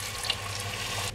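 Water pours into a pot for lentil soup, a continuous close splashing stream with a slight gurgle, running steadily and cutting off abruptly at the end.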